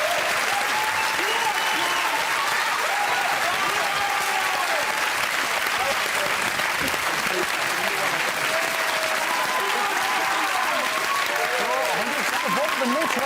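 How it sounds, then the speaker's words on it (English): Sustained audience applause, a steady wash of many hands clapping at close range, continuing for several seconds. "Give them both a round of applause."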